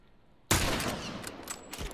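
Rifle gunfire in The Last of Us multiplayer, starting with a sudden loud shot followed by a rapid burst of several more close shots.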